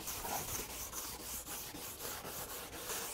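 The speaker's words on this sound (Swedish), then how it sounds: "så tar du fin stål, två, tre drag, så där och polera med fin nylon" A fine steel brush strokes along a ski base in repeated scraping passes, a steady rhythmic rubbing texture at close range with no talk.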